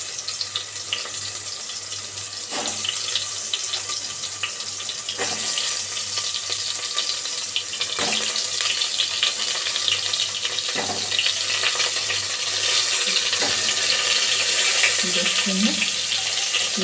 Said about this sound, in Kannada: ಈಗ ಚಟಪಟ ಅಂತ ಇದೆ ಎಣ್ಣೆಯಲ್ಲಿ.